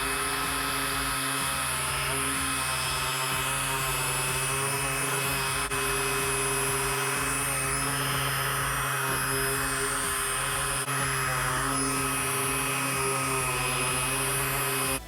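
A rotary car polisher at speed setting 4 works the paint of a Shelby GT500, a steady high-pitched motor whine with a constant hum that runs for the whole stretch, dipping briefly at a few moments.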